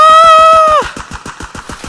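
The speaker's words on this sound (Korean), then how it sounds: "아니 뭐야 이게 사방에서 총 쏘고" Gunfire in the video game Escape from Tarkov, coming from all directions: a sustained tone breaks off into a rapid, evenly spaced train of sharp shots, loud and close, continuing without pause.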